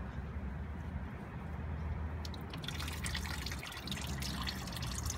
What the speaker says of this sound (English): Some more oil will come out here.